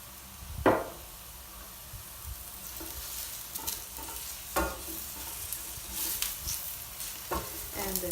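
Mushrooms frying in a pan with pepper and salt give a steady, close sizzle, broken by a few sharp scrapes and clatters of stirring, with no talking.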